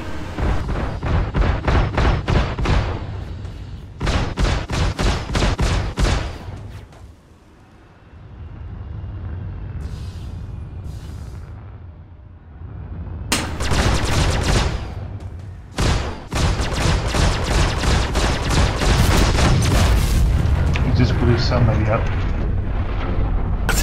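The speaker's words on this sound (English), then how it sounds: "I think he just blew up the other ship through the building." A ship is blown apart by gunfire in a video game, with loud bursts of rapid fire and heavy explosive blasts across the clip around a quieter stretch of engine hum in the middle.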